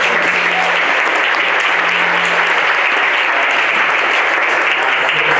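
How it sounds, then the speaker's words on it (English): An awards-ceremony crowd gives dense, steady applause for the nominees, loud and unbroken from start to finish with no speech over it. "there's a round of applause for every single nominee here"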